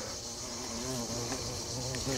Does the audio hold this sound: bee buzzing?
yes